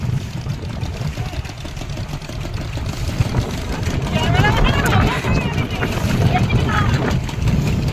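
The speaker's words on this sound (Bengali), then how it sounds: "আর এইদিকে একটা বোট যাচ্ছে।" A motorboat passes on a river during a storm fishing trip, its engine droning steadily nearby and swelling louder midway, with voices talking over it and wind noise around.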